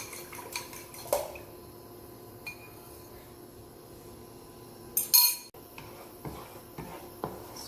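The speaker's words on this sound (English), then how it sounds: "Scrambled egg." An egg is scrambled in a pan with coconut oil, giving scattered metallic clinks and scrapes of a utensil against the pan, a short sizzling burst midway, and a low steady kitchen hum.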